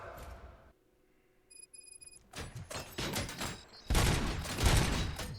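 Gunfire in the video game RoboCop: Rogue City, quiet at first, then bursts of rapid shots that swell into a loud, dense volley toward the end.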